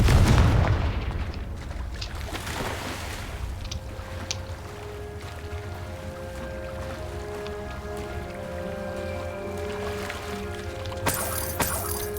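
A Confringo fire spell bursts in Hogwarts Legacy gameplay with a loud opening boom, then a rumbling tail under sustained game tones and a brief crackle near the end.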